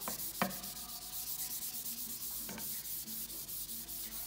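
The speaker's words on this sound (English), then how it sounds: "you can just lightly sand, and what that will do is it will scuff the chalk paint a little bit" Chalk-painted furniture being lightly sanded by hand, soft rhythmic scuffing strokes, close and fairly quiet, with a couple of sharper knocks.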